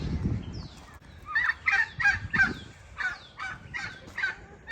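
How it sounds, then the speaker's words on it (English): A flock of chickens and turkeys calling repeatedly outdoors, a string of rising gobbling and clucking bursts at moderate distance, with some low rumbling noise at the start. "Look at all those chickens and turkeys."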